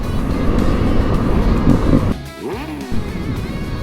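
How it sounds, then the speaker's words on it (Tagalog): Road traffic on EDSA, a busy highway in Metro Manila, rumbles loud and close as steady engine noise, with a nearby vehicle passing with a brief shifting whoosh. "At eto na nga po tayo sa traffic ng EDSA"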